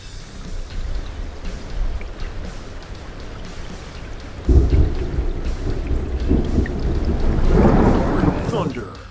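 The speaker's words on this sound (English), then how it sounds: "Thunder, like you've seen it a million times" Rolling thunder and steady rain in American Truck Simulator, rumbling low and constant, with a sudden louder crack about halfway through and the storm swelling toward the end.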